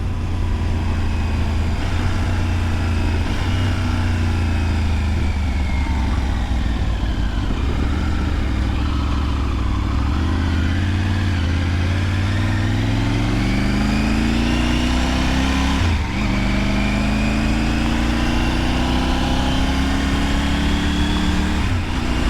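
A 2023 Triumph Tiger 900 Rally Pro motorcycle carrying a pillion hums loudly through twisty roads, its engine note rising and falling through shifts and throttle changes over steady wind rush, continuous and close.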